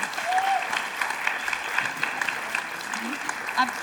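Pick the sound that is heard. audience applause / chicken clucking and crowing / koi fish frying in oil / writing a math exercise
audience applause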